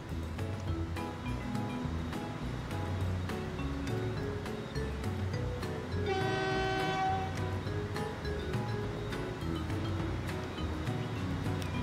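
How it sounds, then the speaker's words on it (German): Freight train pulling away in Transport Fever 2 on a Mallorca map, steady rolling rail rumble with rhythmic clacks and a clear horn blast partway through, over faint seaside ambience. "Dann fährt hier unser nächster Güterzug los."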